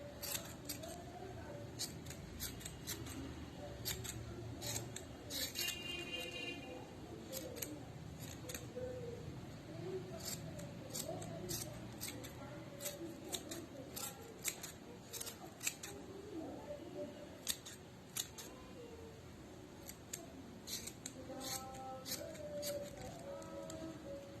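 Scissors snip and trim yarn to shape a handmade pompom, with crisp, close, irregular cuts repeating throughout over a quiet room background.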